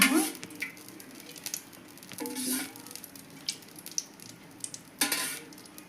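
Cooking oil poured into a pan while making mint chutney, with a soft sizzle, stirring and light clinks of a utensil against the pan, scattered across a few seconds.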